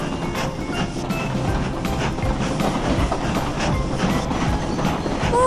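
Animated passenger train Titipo from the Tayo cartoon pulls away from a station, its wheels rumbling and clacking steadily, growing slightly louder as it gathers speed, with a brief high squeal near the end.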